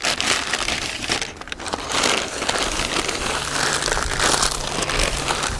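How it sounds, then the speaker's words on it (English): Wrapping paper crinkles and crunches steadily near a yearling filly, a loud, close, continuous rustling that swells and eases without a break. "there's a little wrapping paper in there. Yeah. That makes a noise."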